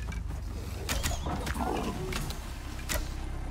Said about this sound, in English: Yeah, that's a bear, though.